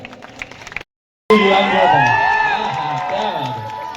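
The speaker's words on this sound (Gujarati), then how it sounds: "ખજૂરભાઈ માટે જોરદાર તાળી થવી જોઈએ આ વાત માટે ખરેખર" A crowd at a celebrity-attended shop opening for groundnut oil bursts into loud, sustained cheering and clapping after a brief silence, with voices calling out over the noise.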